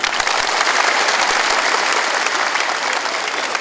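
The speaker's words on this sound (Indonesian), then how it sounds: "Tepuk tangan." Audience at a PKL identification card handover event in Bandung breaks into steady, dense applause, loud and continuous throughout with no pauses.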